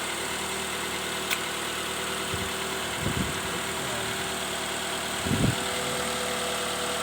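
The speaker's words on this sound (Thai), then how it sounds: "เครื่องนิ่งไม่สะดุดเลยนะครับ" A used car's engine idling smoothly and steadily without stumbling, a constant low hum with a couple of brief deeper rumbles, heard close with no talking.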